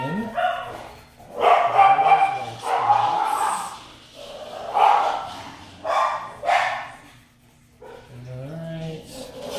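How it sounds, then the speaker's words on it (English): A dog barking and yipping repeatedly in uneven bursts, loud and close, with occasional whimpers between barks. "there's my dog barking"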